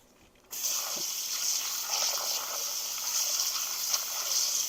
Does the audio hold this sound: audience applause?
no